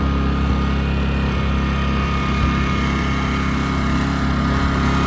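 A Westinghouse iGen 2500 inverter generator runs in eco mode with a steady, even engine drone and a faint whine, constant and close, with no talking.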